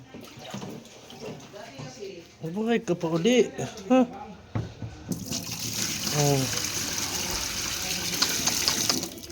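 Water pours and splashes steadily into a container for the second half, loud and close, following a stretch of speech and a few vocal exclamations.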